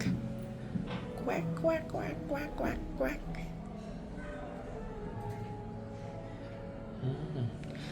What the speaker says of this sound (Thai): เป็ดนะครับ ดัก